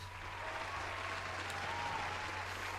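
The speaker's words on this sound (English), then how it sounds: "Round of applause for K-Swiss" Applause on a sneaker podcast, a short burst of steady clapping held at a moderate level for a few seconds, no talking over it.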